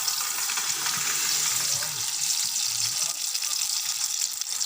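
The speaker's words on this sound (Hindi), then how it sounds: "ऑयल को गर्म होने देते हैं" Oil heating in a handia (cooking pot) on a stove while biryani is being made, giving a steady, even frying hiss that runs unbroken throughout at moderate loudness.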